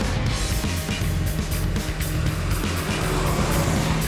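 A KAvZ 3270 bus driving at speed, its engine giving a steady, loud low drone with road roar that holds level throughout, with no voices.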